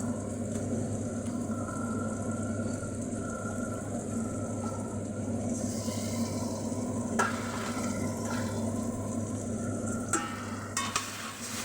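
Meat tipped into a pan of fried onions sizzles steadily while a utensil scrapes and stirs through it, a continuous close frying hiss with intermittent clatter of the spoon against the pan.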